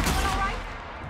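Gunfire in the video game The Outer Worlds, a single loud booming shot that decays quickly into a fading rumble.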